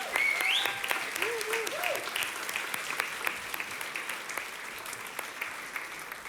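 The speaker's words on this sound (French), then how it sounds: "On peut les applaudir bien fort pendant qu'ils nous rejoignent." An audience claps steadily throughout, with a few high whistle-like chirps near the start over the applause.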